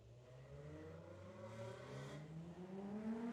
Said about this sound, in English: There's a very loud car driving by Sushi Knight.